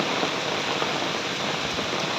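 Steady morning rain pours down in a dense, even hiss that stays loud and unbroken throughout, with no voices over it.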